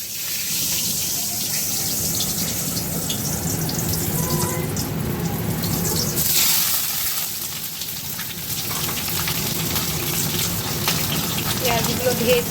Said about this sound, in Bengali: পেঁয়াজগুলো ভেজে